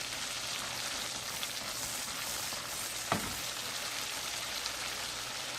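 Masala frying in a pan for aloo gosht, a steady close hiss and crackle of sizzling oil with one brief clink partway through.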